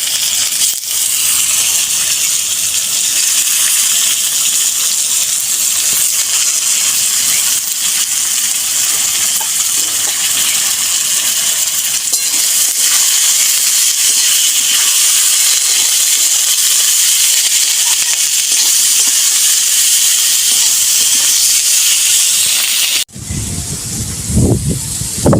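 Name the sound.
cabbage added to frying potatoes in a hot pan, sizzling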